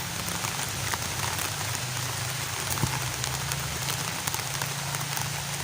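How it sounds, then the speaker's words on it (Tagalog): Steady rain falls on wild plants, weeds and flowers in an open rural field, a dense, even hiss of drops with occasional louder close splats and no talking. "Okay, umuulan."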